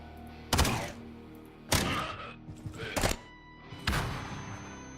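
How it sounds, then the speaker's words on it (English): In the video game Quasimorph, a flashbang grenade goes off as part of a series of four sharp, heavy thumping impacts spaced about a second apart, each fading quickly. "You just flashbang yourselves."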